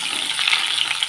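Cauliflower frying in leftover fish oil gives off a dense, bright, continuous sizzle, close and loud, in one brief unbroken burst.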